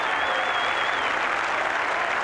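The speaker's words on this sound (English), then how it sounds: "The crowd showing their support." Rugby crowd applauding at Knowsley Road during a St Helens versus Australia match, a steady, dense wash of clapping filling the whole stretch without letup.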